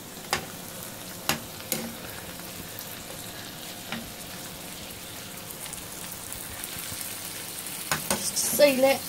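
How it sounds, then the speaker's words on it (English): Steak browning in a pan for a homemade steak pie gives a steady, close sizzle with a few sharp pops and clicks, swelling a little louder near the end, with no talking. "Just kind of browning this steak off."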